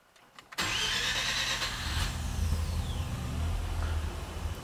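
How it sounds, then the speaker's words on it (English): A Mazda RX7 rotary engine, recently warmed up and running Megasquirt engine management, turns over with a key and catches quickly, then settles into a loud, slightly uneven idle close by. "So I'm just going to turn the key. It should start."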